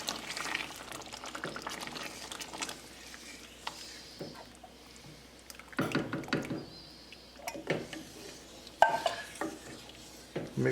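A spoon stirs coconut milk into a simmering potato and pea curry in a pot, giving close, irregular scrapes and knocks against the metal over a low bubbling hiss, with no talk.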